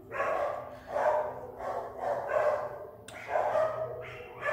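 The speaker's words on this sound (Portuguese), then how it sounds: "E eles estão latindo adoidados," Several dogs bark in rhythmic bursts, muffled and somewhat distant, the barking rising and falling for several seconds.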